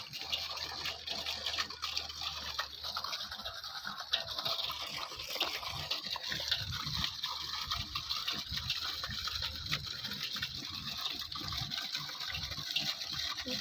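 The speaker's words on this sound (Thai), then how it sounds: "น้ำตกตั้งอยู่บนแพ" A small artificial waterfall set on a raft for fish pours steadily, a continuous gushing, splashing rush of water that stays close and loud throughout with no talking.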